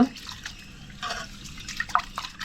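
Rice grains being rubbed and rinsed by hand in water, giving small splashes and drips in short irregular bursts, fairly close and alone without talk.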